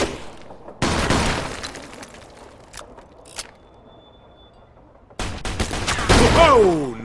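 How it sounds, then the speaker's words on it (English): Gunfire in the Mafia 2 video game: a burst of shots with shattering glass, then quieter scattered single cracks and a lull, followed by another loud volley with debris. "Oh, nice shot, Vito."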